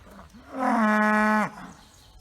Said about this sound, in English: There goes Red Bull and his merry band of heifers to join the other cow herd